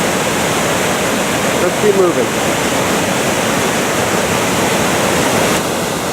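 A large waterfall on the Fuji River in Japan roars steadily and loudly close by, a broad unbroken rush of falling water, with someone briefly speaking over it.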